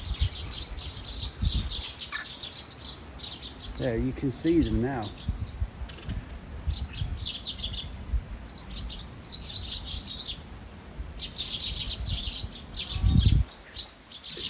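Small birds at a plant nursery chirp and tweet in busy overlapping bursts throughout, while someone talks nearby over them.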